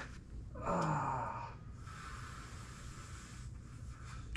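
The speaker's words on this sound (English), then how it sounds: "Good breathing." A person on a massage table takes a deep, audible breath in and lets out a long, heavy sigh while their big toe is worked deeply, close and then fading into quiet rustling.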